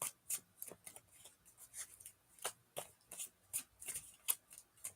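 A deck of cards is shuffled and handled up close, with a run of quick, rhythmic crisp bursts and soft flicks and no voices.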